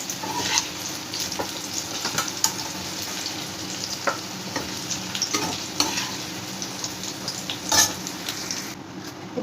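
Oil heats and sizzles in a pan for a Bihari-style jackfruit curry, a steady close crackle with scattered sharper pops and stirring scrapes throughout, no talking.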